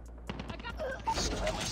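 Shield turret firing in Call of Duty Mobile: a rapid burst of game gunfire starts about a third of the way in and continues to the end, loud and close, with brief speech-like sounds mixed in.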